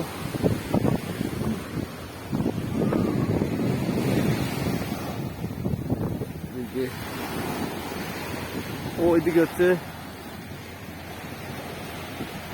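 Ocean surf rolls in at Kochi beach, India, a broad wash of waves mixed with heavy wind buffeting the microphone, with people talking nearby at points.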